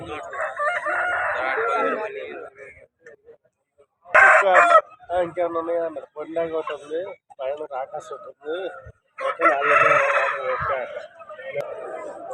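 Roosters crow loudly several times in bursts while people talk nearby at a busy, noisy rooster market in Vijayawada during the Sankranti festival.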